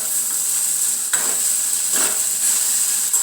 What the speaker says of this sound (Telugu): మధ్య మధ్యలో అడుగంటుకోకుండా కలబెట్టుకోవాలి.